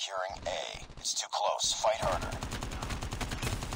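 Automatic rifle fire from Call of Duty Mobile multiplayer, a steady rapid stream of shots running for a couple of seconds, heard quietly after and under someone talking.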